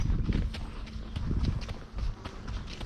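Hooves of a horse under saddle in a stable setting thud softly and steadily on the ground while it walks through a slalom, a continuous muffled rhythm at close range.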